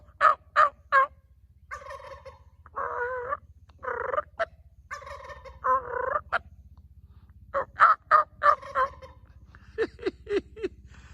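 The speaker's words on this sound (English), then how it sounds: "Did you hear that gobble?" Wild turkey gobbling at dawn near fishing water, several loud rattling gobbles in bursts with pauses between, fairly close and clear over a low steady background hum.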